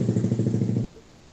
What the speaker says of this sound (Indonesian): Ada suara motor ya?